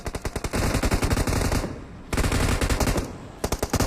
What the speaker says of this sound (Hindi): इधर से फायरिंग की साउंड आ रही थी